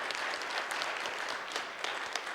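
A church congregation applauds during a Sunday service, a dense, steady wash of many hands clapping throughout the room.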